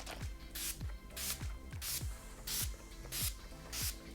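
Chill makeup setting spray misted onto a face in a series of short, even hissing bursts, about six puffs in steady rhythm, close and clear with no talking.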